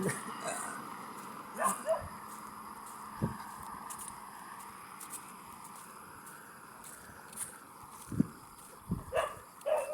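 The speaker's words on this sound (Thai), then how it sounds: "รถชนสุนัข" A white dog struck by a car while crossing a highway lets out intermittent yelps and whimpers amid steady traffic noise, with people talking nearby.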